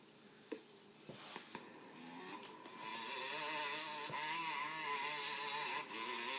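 A Honda motorcycle engine in a video game played on a Compaq Armada E500 laptop: a steady, thin engine drone that rises in pitch and grows louder as the bike speeds up, with a few soft clicks early on.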